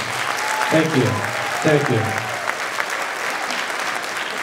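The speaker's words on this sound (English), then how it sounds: "So another round of applause for Mr. Kyle and Ms. Bennett." Audience applause at a winter band concert, steady broadband clapping throughout, with a voice briefly speaking over it near the start.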